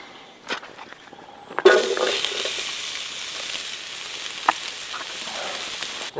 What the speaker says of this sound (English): Alright, we'll get the onions in.